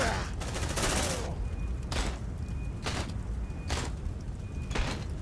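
Bursts of gunfire in the game Aliens: Dark Descent, several sharp volleys at irregular intervals over a dense background din, with faint voices underneath.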